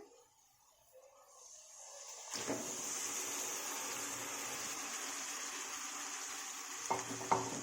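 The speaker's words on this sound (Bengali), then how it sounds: "এবার এটাকে খুব ভালোভাবে মিশিয়ে নিতে হবে মাংসটাকে ভালো করে মিশিয়ে নিয়েছি" Marinated chicken is stirred into a spice mix in a hot pan while cooking chicken rezala at home, giving a steady close sizzle with soft scraping and stirring, and a few utensil knocks near the end.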